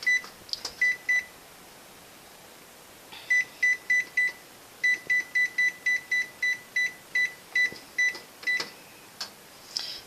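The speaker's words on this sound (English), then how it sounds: "So we're going to go ahead and start the timer." Kitchen oven timer beeping as it is set to bake lasagna, a run of short, sharp electronic beeps in quick clusters and then evenly spaced single beeps, close and clear over quiet room tone.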